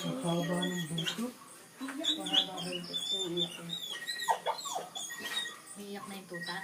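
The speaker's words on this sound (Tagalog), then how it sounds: "Iyak na yung tuta." A newborn puppy cries in thin, high whimpers and squeaks, repeated close up in short uneven bursts while people talk nearby.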